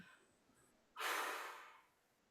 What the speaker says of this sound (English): Breathing out through pursed lips.